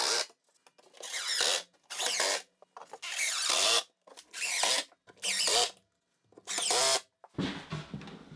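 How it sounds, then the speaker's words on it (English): A power drill drives 1-inch screws into the back panel of a simple painted cabinet, whirring loudly in about seven separate bursts of a second or so, each followed by a short pause. "the following day I attached the back with 1-inch screws"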